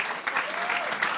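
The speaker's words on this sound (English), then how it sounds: "Everyone make a round of applause, please, for your champions" Brief burst of audience applause for the champion esports team Complexity after a G2 final against Epsilon, dense clapping close up with some crowd voice mixed in.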